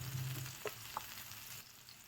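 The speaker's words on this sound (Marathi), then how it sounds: "कांद्याला चांगलं फ्राय करून घ्यायचं पहिले" Onion fries in hot oil with a soft, steady sizzle, a few light clicks or taps, and a quieter tail. No one speaks.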